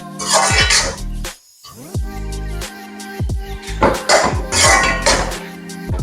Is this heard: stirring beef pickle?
yes